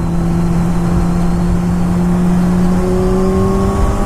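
A quick sport motorcycle pulls hard through a 0 to 60 run, the engine whine climbing steadily in pitch under a constant loud rush of wind, heard continuously and up close.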